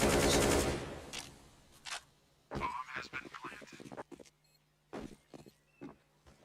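Gunfire in the game Counter-Strike: Global Offensive during a Gambit versus Natus Vincere match: a loud burst of rapid shots at the start, then scattered single shots and clatter under a commentator's voice.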